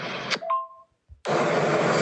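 Old phone tones: a short beep and a sustained dial-type tone, then a brief gap before a loud, steady buzzing tone takes over, with no talk.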